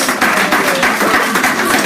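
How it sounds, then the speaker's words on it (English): Loud, dense applause from the guests at a charity launch event, a continuous close wash of many hands clapping for under two seconds. "Please give yourselves a round of applause."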